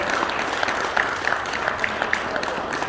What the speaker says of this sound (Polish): I duże brawa dla wszystkich uczniów klasy pierwszej